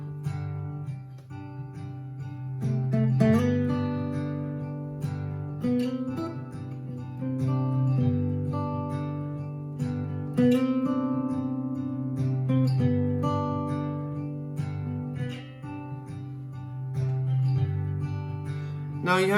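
Layered electric guitar melody looping back through a looper pedal during a live guitar performance, several interlocking parts repeating in a steady cycle at moderate, even volume with no talking.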